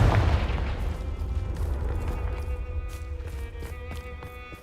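A Confringo blasting spell goes off in Hogwarts Legacy with a heavy, booming explosion at the start that rumbles and fades over several seconds, joined by faint clattering game sounds.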